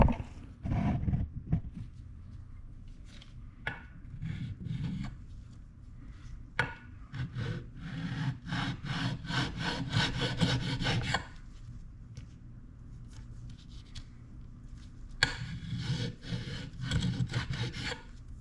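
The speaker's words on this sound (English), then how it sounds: "So I'm going to go over it with this whetstone" A whetstone is rubbed flat across a Ducati 916/996/748 clutch cover to take down high spots, making rasping back-and-forth strokes in bursts with short pauses, close and moderately loud.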